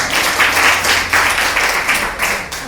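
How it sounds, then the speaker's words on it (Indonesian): Church congregation applauding, a loud, close burst of many hands clapping in uneven waves that rise and dip across a few seconds, with faint voices underneath. "Tepuk tangan dulu dong."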